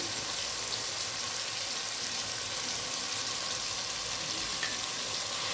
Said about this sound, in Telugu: అల్లం వేస్తాను ఫస్ట్. అల్లం వేగిన తర్వాత ఎల్లుల్లిపాయ వేస్తానండి.